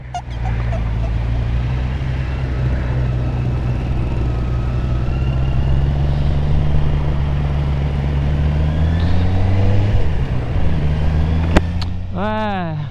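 A Honda CBR650R motorcycle with a modified open exhaust rides along a road, its loud steady engine drone continuous throughout, with a rising rev near the end.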